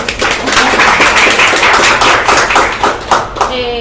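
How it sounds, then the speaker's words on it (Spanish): Audience applause at a zero-waste community talk, loud dense clapping filling the whole stretch with a few sharper claps near the end. "Aplauso para la Mariana."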